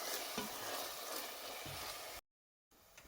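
Sole fish simmering with marinade in a pan over medium heat, a steady sizzle with occasional stirring scrapes, fairly close, cutting out briefly near the end before resuming.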